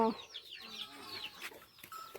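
Chickens clucking around a farmyard garden on a rainy day, several short overlapping clucks and squawks close by, continuing through the clip with no speech.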